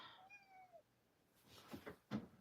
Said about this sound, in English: He was just meowing.